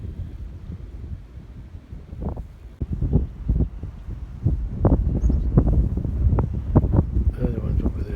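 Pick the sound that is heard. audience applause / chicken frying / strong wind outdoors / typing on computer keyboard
strong wind outdoors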